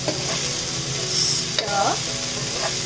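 Mixed vegetables added to onions frying in a pan for a yellow Thai curry: a bright continuous sizzle with a short scrape of stirring partway through, close and steady.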